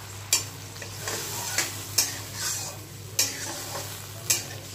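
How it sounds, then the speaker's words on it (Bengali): Mustard paste frying in a pan, now with water added, hisses and sizzles while a spoon knocks and scrapes the pan in a handful of sharp, spaced strokes; fairly quiet, no voices. "এবারে জলটা অ্যাড করে দিলাম।"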